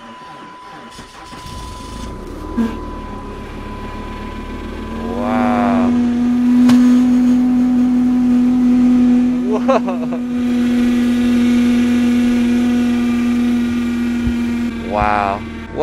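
Cold cars started after ten hours sitting at minus 27 in a Wisconsin polar vortex rev and idle with a steady engine drone and a sustained whining tone, while people exclaim nearby.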